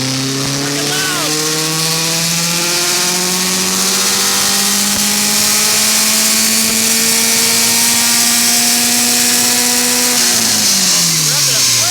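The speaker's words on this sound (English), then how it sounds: "He revved it up way high this time." A built Subaru STI engine making around 500 wheel horsepower revs hard on a dyno, a loud sustained roar climbing steadily in pitch toward about 7,500 rpm before dropping off sharply near the end.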